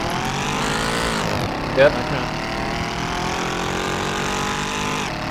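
A Mercedes C63 AMG cruising through Los Angeles canyons gives a steady, loud engine drone with a rising and falling pitch as revs shift, while a person briefly speaks over it.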